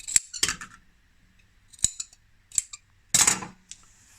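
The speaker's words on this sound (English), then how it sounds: "So what we do is we snip away all this excess behind, 1/2 inch away of course." Scissors snip away excess fabric behind a piping join on a cushion cover, four or five sharp separate cuts spaced apart, close and clear with no talk.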